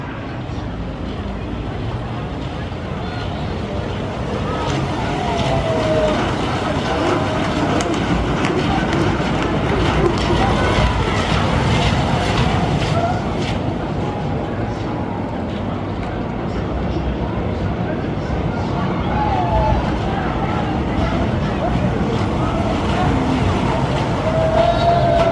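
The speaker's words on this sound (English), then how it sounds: "just got enough time to get on the Flying Fish. 5-minute wait for this awesome power coaster." Flying Fish power coaster ride at Thorpe Park, running a four-lap special: a steady, loud rumble of wheels on track with rattling and wind noise throughout, with faint voices underneath.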